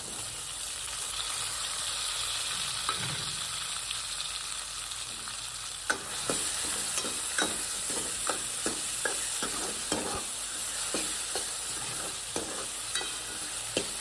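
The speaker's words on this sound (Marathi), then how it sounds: "आता चांगलं फ्राय करून घेऊया तेलात कांदा टोमॅटो" Onion and tomato frying in hot oil, a constant dense sizzle joined midway by repeated clicking stirs of a spoon against the pan, close and steady, with no speech.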